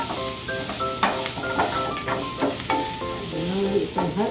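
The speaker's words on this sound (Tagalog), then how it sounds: "magigisa tayo ng bawang" Garlic sizzles and crackles in a hot pan as it is stirred and sautéed, with a close, steady frying hiss, some scraping strokes and faint background tones.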